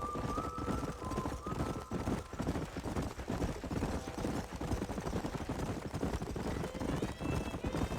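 Horse hooves clip-clop steadily in Red Dead Redemption, a dense, continuous run of hoofbeats under game music and ambient noise, with a faint voice now and then.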